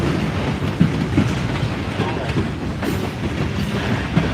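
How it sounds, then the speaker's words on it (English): Norfolk Southern NS8104, the Lehigh Valley heritage locomotive, rumbles past at close range, a steady broadband roar of engine and rolling wheels with a few sharp knocks from the rail joints, heard alone. "NS8104 Lehigh Valley Heritage Locomotive for Norfolk Southern"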